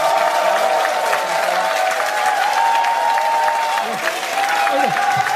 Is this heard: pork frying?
no